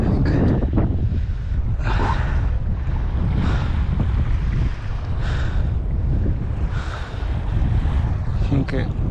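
Sea waves on the beach at Menton, France, heard as a constant loud roar of surf with gusts of wind buffeting the microphone and swelling and easing throughout.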